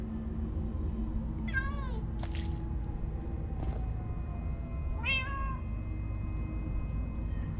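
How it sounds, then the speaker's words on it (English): Two cats meow in the Minecraft Story Mode video game, with separate meows about three seconds apart over a steady low background hum. A brief sharp noise falls between them. "Oh, many cats, so many cats."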